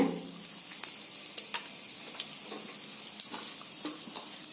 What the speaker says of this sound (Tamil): கடுகெல்லாம் பாருங்க நல்லா பொரிஞ்சிருச்சு